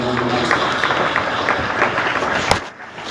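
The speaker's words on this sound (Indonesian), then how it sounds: "Tepuk tangan untuk Bontang Ambulu" An audience applauds at a Muslim religious gathering in Bontang, with dense, steady clapping that stays loud for about two and a half seconds, then thins out near the end.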